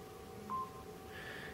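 Touch-tone dialing from a phone app gives a short, clean electronic beep followed by a softer second tone, quiet and isolated over faint background hiss with no one speaking.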